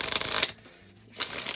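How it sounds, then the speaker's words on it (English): A deck of playing cards riffle shuffled during a magic trick, giving two quick, close papery bursts of flicking cards separated by a brief pause. "then you can do riffle shuffles, false cuts, anything you want"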